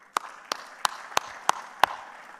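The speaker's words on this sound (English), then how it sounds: "Let's give APB a round of applause." A small conference audience claps briefly after a business meeting introduction, six sharp, separate claps at a steady pace and moderate distance, like one or two people clapping in a quiet hall.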